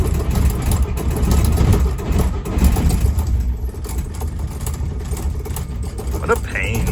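A 1959 Plymouth taxi fitted with a Perkins diesel engine runs steadily, giving a loud, continuous low rumble with a rough, uneven texture for the whole stretch.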